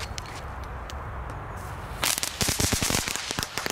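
Lidl firecrackers go off outdoors: after a quiet stretch, a rapid chain of sharp, loud cracks and pops bursts out, crackling irregularly for a couple of seconds.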